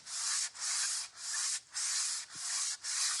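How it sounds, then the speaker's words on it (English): Hand sanding with fine 400 grit sandpaper, six rhythmic back-and-forth strokes with a dry, hissing rasp, each stroke separated by a brief pause, close and steady. "I'm going to put on a 400. 400 is hardly any sandpaper at all."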